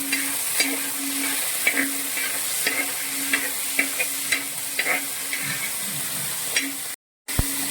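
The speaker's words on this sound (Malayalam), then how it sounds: "ഈ കഴുകി വൃത്തിയാക്കിയ ചെമ്മീൻ നമ്മൾ ഈ എണ്ണയിലേക്ക് ഇടുകയാണ്" Cleaned prawns frying in hot oil for prawn fried rice produce a close, steady sizzle with regular light stirring clicks, then a brief dropout near the end.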